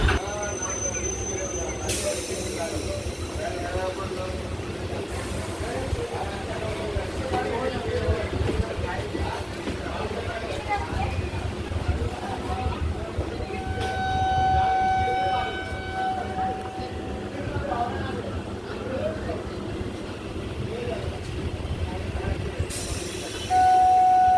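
A train pulls away from Hooghly Ghat station beside the Hooghly River on the Bandel to Naihati line, with a steady rumbling ride, brief horn-like tones and people talking over it throughout.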